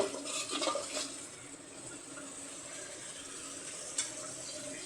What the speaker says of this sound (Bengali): আর এই যে মশলা কষাইতেছি